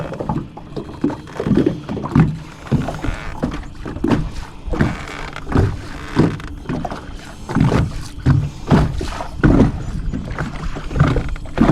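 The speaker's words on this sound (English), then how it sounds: "Wind's picking up pretty bad, if y'all hear that. Just slapping this boat." Wind-driven lake water slapping against the hull of a crappie fishing boat, repeated irregular hollow thunks and splashes close by, recurring every second or so with choppy background wash.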